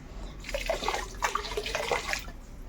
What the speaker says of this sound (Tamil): அதோட நம்ம ரெண்டுலேயும் கொஞ்சம் கொஞ்சம் கோமியம் ஊற்றிக்க போகிறோம்